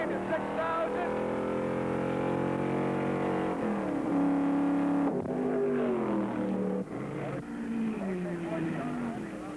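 A race car engine at Road America during the 1964 Road America 500 climbs in pitch and drops as it winds up through the gears, loud and continuous in a vintage recording with a voice talking over it.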